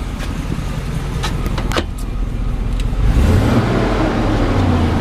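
A truck engine runs smoothly and steadily, preceded by a few brief clicks and knocks, with the engine note rising and growing a bit louder partway through.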